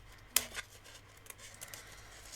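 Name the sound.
scissors cutting card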